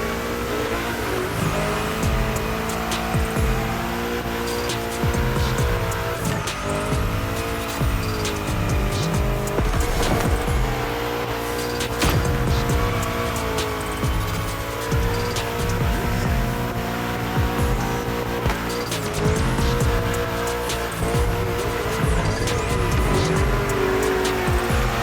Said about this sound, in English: While you're in a bend, release the throttle, turn the steering wheel to change course, and hit the throttle again.